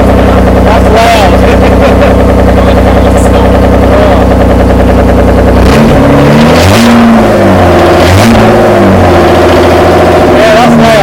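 A Toyota MR2 V6 with a straight-pipe quad exhaust revs loudly and close, a steady roaring idle giving way to sharp rising and falling throttle blips in the second half.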